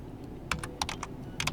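Typing on a computer keyboard: a short, close burst of crisp key clicks in an uneven rhythm, with no talking.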